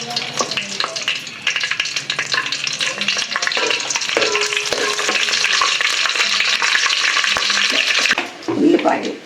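Bay leaves and a piece of cinnamon fry in hot oil in a village kitchen, making a loud, close, continuous sizzle with stirring scrapes and a faint voice now and then.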